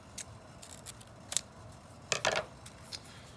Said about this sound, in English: Next, we're going to go ahead and take a red strip, cut it into 4ths.